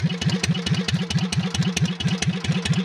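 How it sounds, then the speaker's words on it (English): A Cub Cadet 1650 hydrostatic garden tractor engine runs with its muffler removed, a loud, close, raw exhaust chugging in fast, even pulses throughout, with no voices. "I ain't even got my muffler on here. I usually keep the muffler off."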